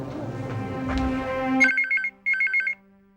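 A telephone rings with two clear electronic trilling bursts, loud and close, right after a low musical drone fades out in a Hindi family drama scene.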